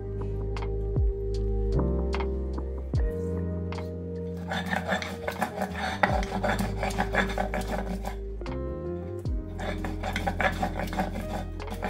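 Tomato being ground into paste for a Bengali mutton curry, with a rhythmic rasping and scraping that runs for a long stretch, broken by louder clacks and knocks, fairly close.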